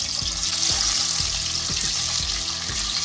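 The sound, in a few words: rohu fish pieces frying in a small pan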